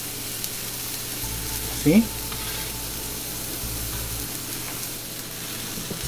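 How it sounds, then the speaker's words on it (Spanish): Pineapple grilling with a steady, close sizzle that runs throughout, broken by a brief louder crackle and a short spoken word. "Mientras que se asa la piña"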